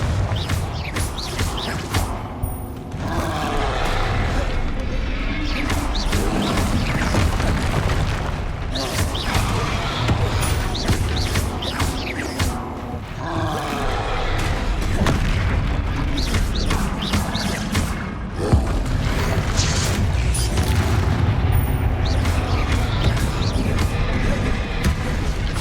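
Confringo explosive spell blasts in Hogwarts Legacy, repeated booming impacts amid dense combat noise, with a spoken incantation over the action.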